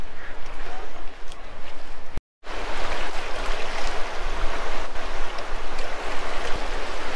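Flooded river during the 2021 Chilliwack flood roars in a loud, continuous rushing wash close to the microphone, with wind buffeting and a brief dropout in the middle.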